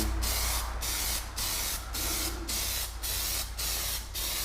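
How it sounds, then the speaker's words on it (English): A spray paint aerosol can sprays in short repeated bursts, roughly eight even hisses spaced about half a second apart, close and steady. "you're going to want to again just kind of do a test spray to get a good even flow out"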